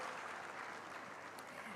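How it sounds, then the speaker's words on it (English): An audience claps for an artist at a university foundation day celebration, a steady dense wash of applause filling the whole moment, with no voice standing out above it. "Can we have a huge round of applause for the lovely artist?"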